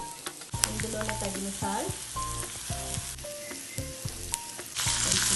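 Ridge gourd pieces frying in a pan with chili powder and cumin, a steady sizzle with stirring clatter beneath a brief spoken remark, growing louder and brighter near the end.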